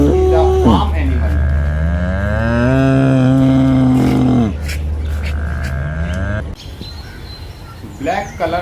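A bull gives a long, deep moo that swells and wavers for several seconds before breaking off, then a second, quieter lowing call follows at the end.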